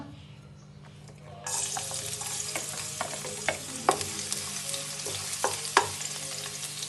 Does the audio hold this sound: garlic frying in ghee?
yes